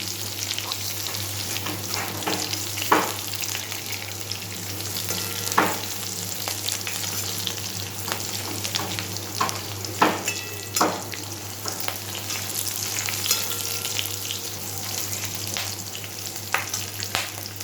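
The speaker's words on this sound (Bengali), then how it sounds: "কাঁচা লঙ্কা আর রসুনটাকে একটু ভেজে নেব।" Split green chillies and garlic fry in a pan with a steady, close sizzle and occasional scraping stirs, with no talking.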